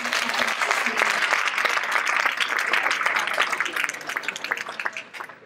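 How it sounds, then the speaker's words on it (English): An audience at a community show breaks into applause, a dense, sustained patter of many hands clapping that holds steady and then gradually tapers off. "So let's give them all a big round of applause."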